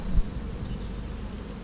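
Honeybees buzzing at an open hive during an inspection, a close, steady droning hum with a brief louder knock near the start and no talking.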